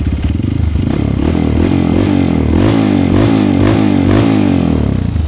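Honda CRF 150L supermoto with its standard exhaust, engine revved repeatedly up and down in close, loud rising and falling pulls over a steady idle chatter, with no talking.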